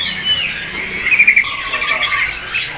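A kacer, or white-breasted magpie robin, at a bird kiosk gives bright, squeaky whistled calls with a clustered burst in the middle, fairly close and moderately loud against a steady background hiss, with no talking.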